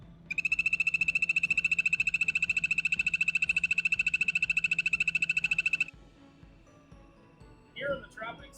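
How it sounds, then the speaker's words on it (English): Rapid, evenly pulsed trill of frogs croaking in a zoo's tropical rainforest exhibit, running continuously for about six seconds before stopping abruptly, followed by a brief spoken voice. "we have a lot of animals, including our poison dart frog and poison arrow frogs"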